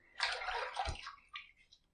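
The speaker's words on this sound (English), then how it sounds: "let me just go ahead and throw a little bit of water on there" Water splashes onto a head during a head shave, a brief sloshing rush with a small thud, then fading trickles and drips, close and fairly quiet.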